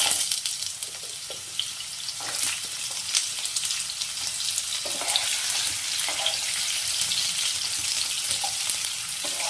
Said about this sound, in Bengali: বাকি সবজিগুলো সব এইভাবে তেলের মধ্যে নেড়ে নেব।